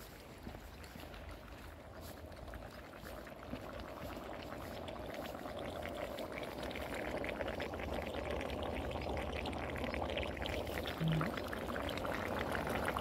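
Steady rushing and gurgling of water, continuous and fairly loud, building slightly over time with no voices.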